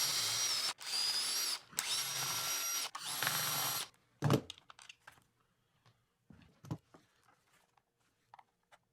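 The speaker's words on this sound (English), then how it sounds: "I've had this apart before, so I'm not worried about using a power driver." A power driver spins out Torx screws from a Festool Plug It tool casing: three loud whirring bursts close up, then clicks, taps and small handling noises as parts are set down, fairly quiet afterwards.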